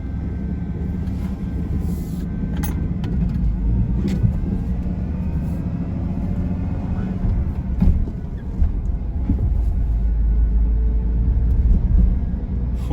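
A Ford F150 truck engine runs steadily after being restarted, a loud, close, continuous low rumble with slight rises in tone and no break.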